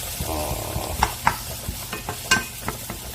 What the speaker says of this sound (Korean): 버터를 풍미를 더해주기 위해서 이렇게 좀 볶아주시고